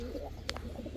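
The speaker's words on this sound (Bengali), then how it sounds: "এখন দেখাবো এক জোড়া খয়রা গলা কবুতর" A pair of brown-necked pigeons, a male and a female, gives soft, low cooing across a short moment, with a brief sharp sound in the middle against a quiet background.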